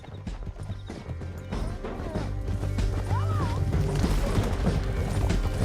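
Galloping horse hooves clatter steadily in the Red Dead Redemption 2 video game while riding down a canyon, with a horse whinny and game music and effects layered over the rhythmic clip-clop.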